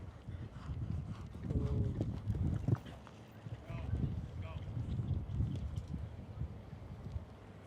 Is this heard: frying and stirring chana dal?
no